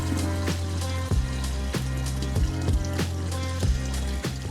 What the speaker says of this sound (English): Getting some cold water in here.